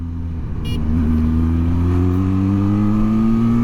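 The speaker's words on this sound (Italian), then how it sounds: "Adesso siamo in salita, seconda, vi faccio sentire il motore." A Benelli TRK 502X motorcycle engine pulls uphill in second gear, its pitch climbing steadily in a loud, close, unbroken rev after a brief lower rumble at the start.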